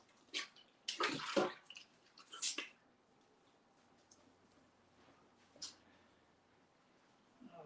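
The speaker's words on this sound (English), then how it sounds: "I'm just going to wash my hands, get that lovely doughy mixture off" Hands being washed under a running tap to rinse off scone dough in a kitchen, giving a few splashy bursts of water followed by a quieter, lingering trickle.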